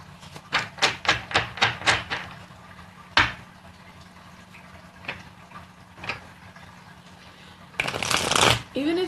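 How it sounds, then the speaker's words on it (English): Tarot cards riffled in a quick run of about eight crisp bursts, then a single snap and a few softer flicks, ending in a longer shuffle; a faint steady hum sits underneath. "I'm going to pull a card about this"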